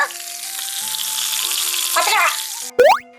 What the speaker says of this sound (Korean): 기름이 끓으면 깨다시가 춥지 않도록 따뜻한 기름에 넣어주면 되겠죠